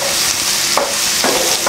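Carrot and capsicum stir-fried in hot oil for restaurant-style vegetable fried rice, a steady bright sizzle with a few scraping stirs of the spatula across the pan, close and loud with no talking.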